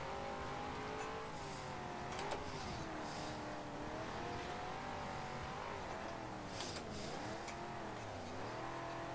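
Big American muscle car in a racing game time trial, engine droning and revving up and down through gear changes with a wavering pitch, steady and prominent, occasional tire squeal, no speech.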